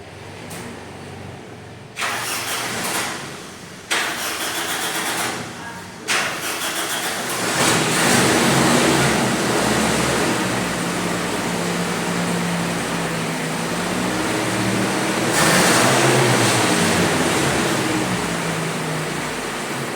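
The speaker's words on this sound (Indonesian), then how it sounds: "Silakan diuji mesinnya." A light passenger car engine in a vocational school workshop cranks over with several short starter bursts, then catches and runs steadily at close range, with a brief rise in revs near the end.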